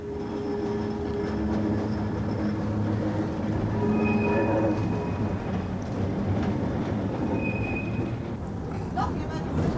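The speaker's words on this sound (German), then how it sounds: "Die ersten 5 Kilometer teilt sich die Thüringer Waldbahn die Gleise mit den Stadtlinien" A Thüringerwaldbahn tram rolls along city rails shared with urban lines, a steady loud rumble with faint rail squeals and tones throughout, heard from inside the car.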